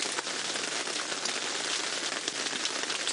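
Rain falls on a game drive vehicle in an African safari reserve, a dense steady hiss of drops with faint scattered taps, continuous and close, with no voices.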